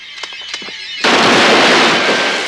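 Gunfire in the 1982 film Swamp Thing: a couple of faint pops, then a sudden loud sustained blast of shooting that fills the rest of the moment without any talk.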